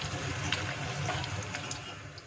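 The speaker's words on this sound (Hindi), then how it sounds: "तो चलते हैं धुलाई की तरफ, और ये धुलाई कर लेते हैं।" Food washed under running water from a tap, a steady, soft gush and splash heard close for a couple of seconds with no talking.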